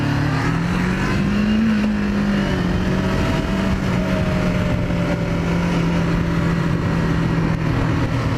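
A Kawasaki Ninja 500R motorcycle accelerating, its engine droning loud and close with a steady rising and falling pitch, no voices over it.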